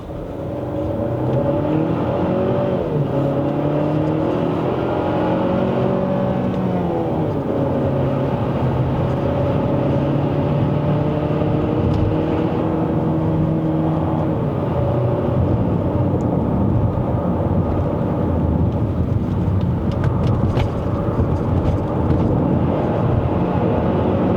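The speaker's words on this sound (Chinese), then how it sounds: "4 wheel drive 会让这辆车贴背感没有这么强，可是动力是可以的，你要随时超车啊那些啊，它给到你动力的" Omoda C9 AWD climbing the uphill road to Genting in Malaysia, with a steady engine drone and road roar heard from inside the cabin throughout, plus a faint pitch rise as it pulls.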